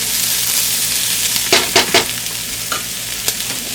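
Green capsicum, carrot and peas sizzle as they fry in a pot for one-pot Mexican rice, a steady close hiss broken by a few quick scraping stirs of a spoon.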